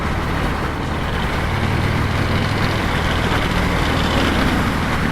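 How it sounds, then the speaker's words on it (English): A 2019 Harley-Davidson FXDR motorcycle rumbles along a road through traffic, its engine a steady, loud low drone reflecting off nearby vehicles, with no speech. "I can hear the engine bouncing off those vehicles"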